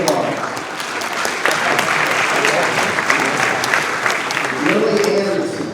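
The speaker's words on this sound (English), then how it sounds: "Feel free to applaud." Audience applause at a senior awards ceremony, dense continuous clapping from a crowd, with a voice briefly heard under it toward the end.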